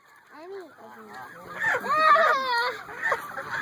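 Ducks being fed bird bread, giving repeated honking, quacking calls up close that grow louder and busier midway, mixed with people talking.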